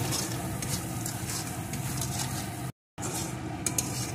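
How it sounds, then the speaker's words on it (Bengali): Spice masala with turmeric and salt is fried and stirred in a pan, a soft steady sizzle with faint scraping and light clinks from a utensil, broken briefly by a gap of silence. "এখন মশলাটা আরও কিছুক্ষণ সুন্দর করে কষিয়ে নেব।"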